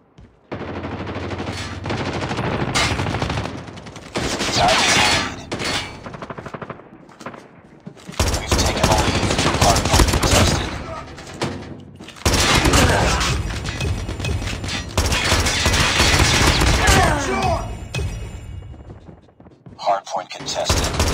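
Heavy automatic gunfire from a gun in Call of Duty on the Oil Spill map, long loud bursts of rapid shots and booms broken by short pauses, with a player's voice briefly heard amid the firing.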